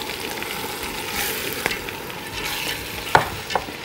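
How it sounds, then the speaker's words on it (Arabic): A spoon stirs yellow lentils in a pot for koshari, producing a soft, faint scraping and gentle sizzle with a couple of light clinks, no voices present. "نقلبه كده كويس قوي."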